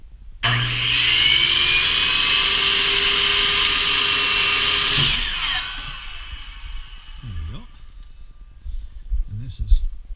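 A power saw whines loudly for about five seconds, trimming a wooden frame piece for a heat pump roof, then cuts out, leaving quieter handling noises and a few knocks.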